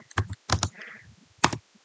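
A computer keyboard is typed on in a few quick, close clicks in two short bursts separated by a pause, with a faint soft rustle between them.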